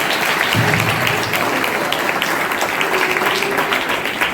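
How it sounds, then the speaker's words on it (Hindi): Loud, dense applause from an audience at a Jain religious gathering, a continuous wash of clapping filling the space for about four seconds without speech. "एक बार जोरदार तालियां बजा दें"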